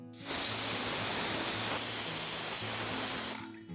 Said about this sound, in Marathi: कुकरच्या 2 शिट्ट्या झाल्यात